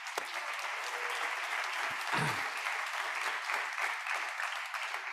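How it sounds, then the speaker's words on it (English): Audience applause at a tourism venue awards ceremony, a steady dense clatter of many hands filling the room, with a brief voice cutting through near the middle. "a big applause on the organization of the awards of all the team"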